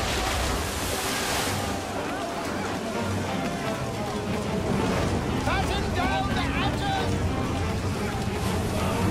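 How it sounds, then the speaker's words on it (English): Rough ocean waves at night in Assassin's Creed 3, a continuous surging wash of surf with wind noise, loud and close, and a voice talking over it. "We got some waves. It's a rough seas tonight,"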